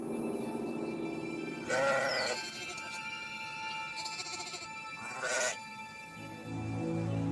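Sheep bleat in three loud separate calls spaced a few seconds apart, close by, over a steady low background with no speech.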